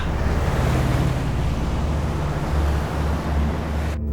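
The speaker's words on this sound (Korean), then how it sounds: "파도가 점점 높아지더니 며칠째 악천후가 계속됐다." Rough sea waves crash and surge with heavy wind during days of bad weather off Gunsan, over a seabed shipwreck excavation site, a loud continuous roar with no talking.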